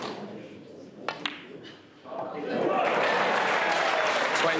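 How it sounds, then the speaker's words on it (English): Snooker crowd at the World Championship final breaking into swelling applause and cheers for a player's comeback, rising after a couple of sharp claps into a dense, sustained roar of clapping. "They're cheering on the comeback."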